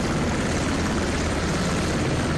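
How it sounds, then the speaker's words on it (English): A helicopter in the video game Squad gives a steady, loud rotor and engine drone that fills the whole stretch without a break. No one speaks. "Money Man's gonna drive the helicopter away from here."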